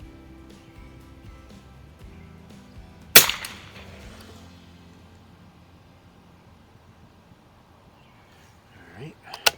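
Savage NRA Match model 19 rifle fired with iron sights at 50 yards, one sharp loud crack followed by a fading echo, with quiet surroundings and faint clicks at the end.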